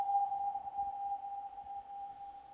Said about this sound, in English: we want to be able to savor this lovely long reverb tail